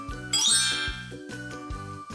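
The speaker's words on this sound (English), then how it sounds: "I have a bell." A bell rings alone in a short sequence of bright, tinkling strikes, five or six evenly spaced tones that shimmer and ring on between hits.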